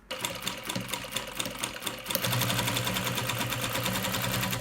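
A sewing machine runs steadily and close by as it stitches the pocket of a baby bag, with a rapid, even mechanical chatter that speeds up into a denser, louder whir partway through.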